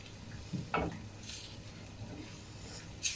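Penne pasta is stirred through tomato vodka sauce with smoked salmon in a pan, giving a low wet sizzle with a few soft scraping and clinking stirs.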